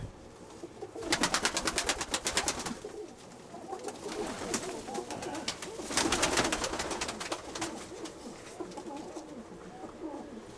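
A pair of pigeons coo softly in low, burbling bursts amid rapid fluttering or scratching noises, fairly close, with no clear talking.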